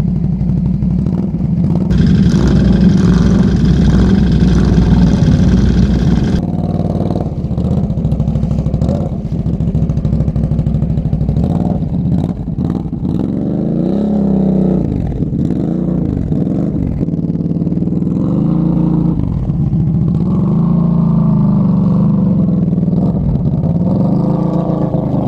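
A Polaris ATV and Renegade ATVs rev their engines continuously, loud and close, with the pitch rising and falling as the wheels spin.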